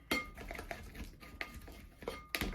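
Faint scraping and tapping of a utensil against a bowl while gathering sourdough einkorn focaccia dough from the sides, several short uneven knocks and scrapes.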